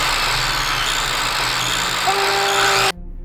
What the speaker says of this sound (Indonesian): Dilanjutkan dengan membunuh seorang pria yang terikat dengan menggergaji perutnya.